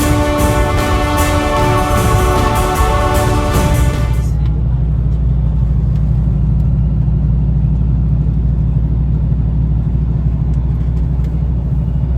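A camper truck drives along a road toward a mountain, its engine giving a steady loud low rumble throughout. A strong harmonic whine fills the first four seconds and then cuts out, leaving only the road drone.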